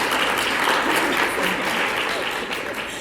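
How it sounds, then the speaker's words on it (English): An audience breaks into applause, a dense, steady wash of clapping close by that fades slightly near the end. "Can we just give Haley a round of applause?"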